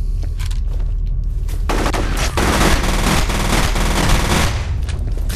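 Rapid automatic gunfire in the shooter game F.E.A.R., loud and close, starting with a few sparse shots and then becoming a dense, sustained burst of rattling fire with booming impacts.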